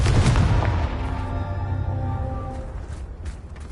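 Explosion of the Confringo fire spell in Hogwarts Legacy: a loud booming blast at the start that rumbles and fades over a few seconds, with a faint ringing tail.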